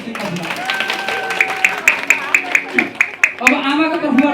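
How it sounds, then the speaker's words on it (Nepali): Rhythmic hand clapping from the groom's party at a 50th wedding anniversary celebration, with quick, even claps building after a moment, while voices of a crowd chatter and call out over it. "जन्ती पक्ष तर्फबाट एकपल्ट जोरदार ताली"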